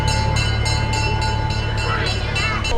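A train ride at a garden attraction in Honolulu rumbles along continuously with a low, steady drone and regular rhythmic clacking, loud and close throughout.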